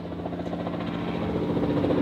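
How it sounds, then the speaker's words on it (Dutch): A helicopter flies over a street during the 2021 WRC Ypres rally, a steady, continuous rotor drone that holds level and swells slightly toward the end, with no talking. "Vliegen ook al helikopters, heel vreemd wel worden."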